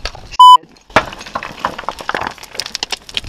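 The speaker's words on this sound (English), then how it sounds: "No, that's an alarm." A single short, clear electronic alarm beep from gear carried by a hiker on a mountain trail, followed by crunching footsteps and rustling close by.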